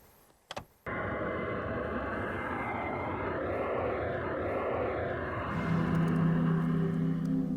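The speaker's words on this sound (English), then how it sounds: "Victor, can you change the noise to aircraft noise, please? And then make it louder too" Steady, loud roar of aircraft noise played back for a headphone noise-cancellation demo, beginning abruptly after a brief click and holding constant, with a low droning hum joining near the end.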